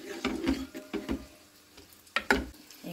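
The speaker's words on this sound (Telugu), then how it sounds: "ఇక్కడ చూడండి చారులో పోపు వేద్దాం." Dried red chillies in hot tempering oil poured into rasam hiss sharply in several close, loud sizzling bursts, quieting between them, then a final strong pair of sizzles.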